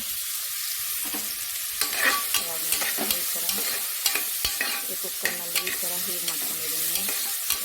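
Okra being stir-fried in a pan for a quick Kannada-style palya, with a steady sizzle under repeated scraping and stirring strokes of a spatula, close and continuous with no talking.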